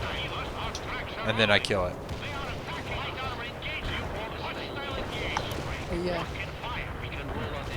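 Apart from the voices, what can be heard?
missile fire and explosions in a video game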